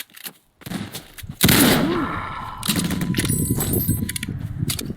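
Rapid bursts of gunfire in the Roblox game Ray's Mod, loud and dense, crackling in volleys against a busy game background, with a short quiet gap before the shooting starts.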